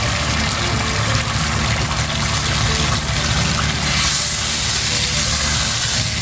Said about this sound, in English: so one more bowl of water